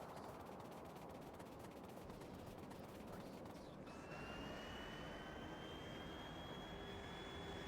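Engine of a plane in the video game Factorio, a steady broad roar that rises midway into a louder whine with a climbing high tone, continuous and close throughout.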